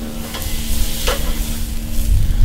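Steaks and shrimp sizzling on a charcoal grill, a loud steady close hiss with a low hum and a couple of sharp clicks as the food is flipped.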